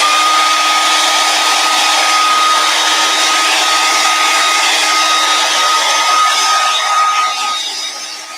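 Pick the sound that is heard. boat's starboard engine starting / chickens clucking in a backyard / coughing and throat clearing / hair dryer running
hair dryer running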